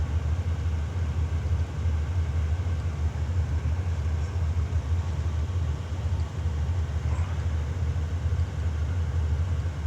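Race car engine held at full throttle in Gran Turismo 7, a steady, continuous low drone and rumble with no breaks or audible shifts, sounding alone without any talk.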